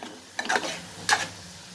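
Sliced bitter gourd frying and being stirred in a pan, with two short bursts of sizzling and scraping separated by a brief quieter pause, close up and without any talk.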